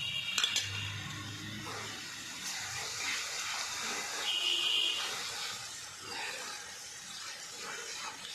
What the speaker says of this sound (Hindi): अब हम इसमें लहसुन और अदरक का पेस्ट डालेंगे